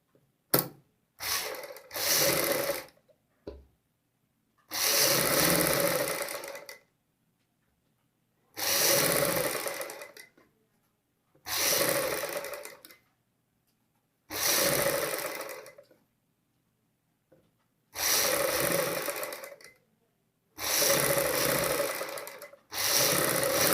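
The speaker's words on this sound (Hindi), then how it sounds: "यहाँ बुकरम के साथ साथ हम सिलाई लगाएंगे।" Sewing machine stitching a kameez collar with buckram, heard as about eight separate bursts of fast stitching, each a second or two long, separated by silent pauses, close and fairly loud.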